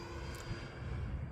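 E-flite Focke-Wulf Fw 190A 1.5m RC model airplane flying on a winter day, a steady buzzing electric motor and propeller drone heard from a distance with wind noise, no talk.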